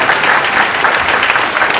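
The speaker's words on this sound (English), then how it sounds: "let's give these brave folks a round of applause" A high school auditorium audience applauds new freshman students in a loud, even burst of many hands clapping, dense and sustained throughout with no talk over it.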